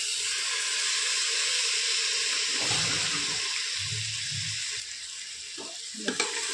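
Soaked lentils sauté with onion and garlic in a pan, a steady close sizzle with occasional stirring and a couple of sharp knocks at the end.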